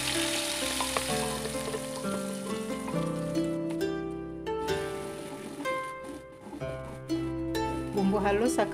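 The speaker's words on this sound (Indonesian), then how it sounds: "Bumbu halus akan saya goreng sampai bumbunya harum dan juga matang." Ground spice paste fries in hot oil, giving a steady crackling sizzle with occasional stirring, heard beneath continuous background music.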